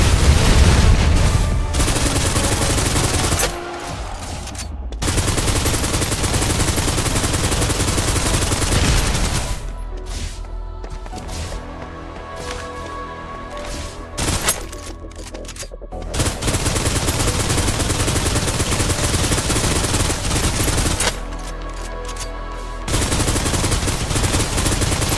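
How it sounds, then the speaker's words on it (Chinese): Sustained gunfire from a third-person shooter game, Snowbreak, in closed beta: long bursts of rapid automatic fire broken by short pauses, loud and continuous with game effects layered over it. "开始火力压制"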